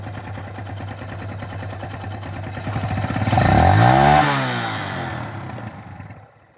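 A Kawasaki Barako 175 motorcycle engine idles steadily, then revs up loudly to a peak and drops back down toward idle, close by.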